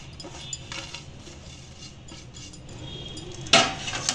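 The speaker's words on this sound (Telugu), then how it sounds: "ఇప్పుడు ఇవన్నీ బాగా కలుపుకోవాలి" Scraping and clinking of a spoon mixing ground almond, flaxseed, sesame and edible gum powders in a bowl, steady and close, with a sharper clatter near the end.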